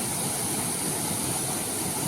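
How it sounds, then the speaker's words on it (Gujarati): A small natural waterfall tumbling over rocks into clear water, a steady, loud, broadband rushing roar that stays constant without pause. "આ જમજીર જેવો ધોધ"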